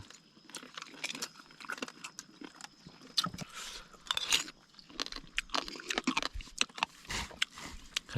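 Crunchy cooked snake with coarse bones being chewed close up, irregular brittle bites and crackly crunches repeating throughout with no speech.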